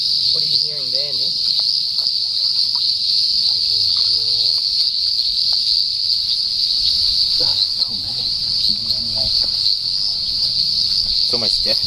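A loud, unbroken chorus of frogs calling at night in Karawatha forms a dense, piercing drone, with a few brief spoken voices passing underneath.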